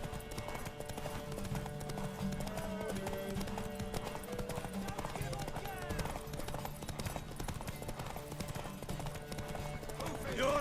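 Horse hooves clip-clop in The Witcher 3: Wild Hunt, a steady, rhythmic gait under game dialogue and background music, with a brief whinny along the way.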